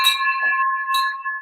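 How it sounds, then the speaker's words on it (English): A bell rung once and then again in a loud studio setting, bright sustained metallic tones with strong harmonics ringing out for over a second, no talking over it. "Ring that bell, bro. Ring the bell."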